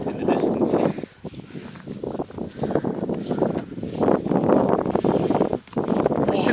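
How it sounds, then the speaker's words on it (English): Wind buffets the microphone on a sunny Lake District hill hike, a continuous low rumbling roar with gusty surges throughout, loud and close, blended with faint movement sounds. "It's sunny, but you still get a little bit of wind"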